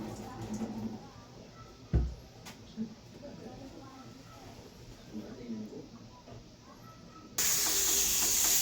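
Pork leg softening in a pressure cooker for asado: a quiet, low background gives way near the end to a sudden, loud, steady hiss of escaping steam that continues to the end.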